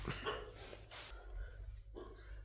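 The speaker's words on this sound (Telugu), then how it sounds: "బర్రెలు చూసి అరుస్తుంది కుక్క" A dog barks a few times at buffaloes at a distance over a low steady hum of background noise.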